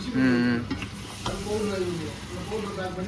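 Meat frying with onion in a pan, its fat rendering down into oil, gives a steady close sizzle with some stirring, and a faint voice talks underneath.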